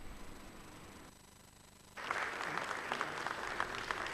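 Applause in a Libreville palace banquet hall as President Ali Bongo Ondimba enters: a quieter stretch, then a sudden swell into dense, sustained clapping from a large crowd that holds steady to the end.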